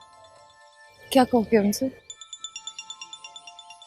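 A mobile phone ringtone in a Pakistani TV drama scene, beginning after a short spoken question and repeating as a steady series of bright electronic pulses.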